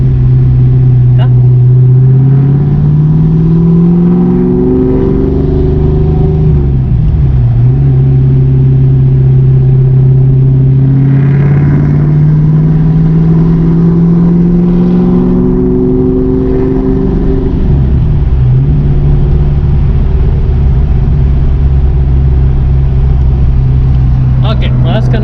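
A 1994-95 Ford Mustang with a 5.0-liter V8 and a newly replaced distributor revs loudly while driving, its engine note climbing, dropping on a downshift, then climbing again for a long continuous pull heard from inside the car.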